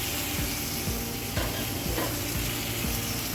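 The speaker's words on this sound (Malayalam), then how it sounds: "ഈ സമയത്ത് നമുക്ക് തക്കാളിയും കൂടെ ചേർത്ത് കൊടുക്കാം." Tomatoes dropped into frying masala in a pan keep up a steady, dense sizzle throughout, with periodic soft stirring scrapes, close and fairly quiet with no talk.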